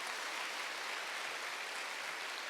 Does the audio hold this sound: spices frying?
no